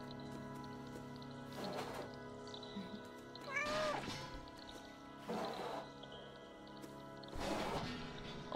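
A cat in the video game Stray meows four times at spaced intervals, clear and close, over a soft sustained ambient music bed.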